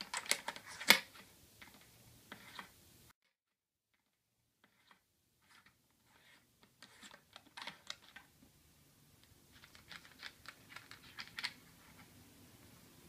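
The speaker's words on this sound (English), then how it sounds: "I can now unscrew the retaining ring." A retaining ring is unscrewed from a B&K 4128 coupler with a small two-tabbed tool, giving faint, sparse metallic clicks and scrapes split by a quiet pause.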